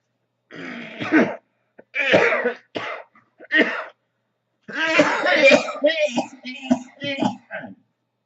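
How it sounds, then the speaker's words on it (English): A man coughs and dry heaves, with harsh throat-clearing bursts, retching gasps and strained breaths in uneven fits close to the mic. Silent pauses fall between the fits. "Been doing that all week, vomiting and dry heaving"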